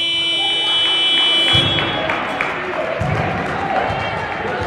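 At a women's basketball semi-final, a loud sustained electronic buzzer sounds over crowd noise for about a second and a half. Court thuds and the crowd carry on after it under commentary.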